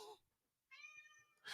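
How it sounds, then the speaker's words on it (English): A cat gives one clear drawn-out meow, fairly close and moderately loud, framed by brief bursts of other sound before and after. "The cat is dismayed by this story."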